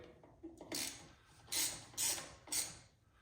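On a 2024 Harley-Davidson Road Glide, bolts for a Heavy Breather Extreme air cleaner are snugged in a crisscross pattern, with a ratchet wrench clicking in four short, distinct bursts close by. No one talks.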